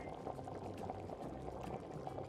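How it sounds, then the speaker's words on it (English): A pot of water boils on a stove, ready for blanching broccoli florets, giving a steady, soft bubbling and churning that continues throughout with no voices. "I have a pot of water boiling over here"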